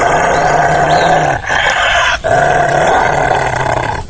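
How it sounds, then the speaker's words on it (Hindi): A deep, continuous growl from a wolf rumbles close and loud, broken by two short pauses for breath before the snarling resumes. "तभी भेड़िया उसे देखकर गुर्राने लगता है।"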